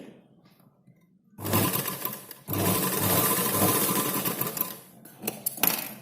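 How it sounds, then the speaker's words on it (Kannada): Sewing machine stitching a blouse, a loud continuous mechanical whirr that starts after a quiet moment, briefly pauses, then runs on steadily before slowing and stopping near the end. "ಇಲ್ಲಿವರೆಗೆ ಕ್ರಾಸ್ ಆಗಿ ಹೊಲಿಬೇಕು. ಇದು ಕೂಡ 2 ಸರ್ತಿ ಹೊಲಿಯಿರಿ."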